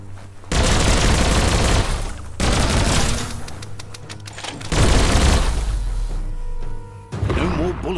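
Bursts of automatic gunfire and booming impacts in the action game Biomutant, loud sustained volleys broken by short pauses, with a voice talking between them.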